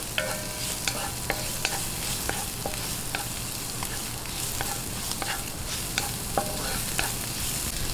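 Onion sautés in a pan for a Filipino stuffed-squid filling, with steady sizzling under regular spatula clicks and scrapes against the pan, close up and without speech.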